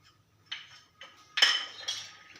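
Metal spoon clinking and scraping in a bowl while mixing red chilli powder and spices into chicken drumsticks for crispy fried chicken, a few short separate clinks, faint and close, with no talk.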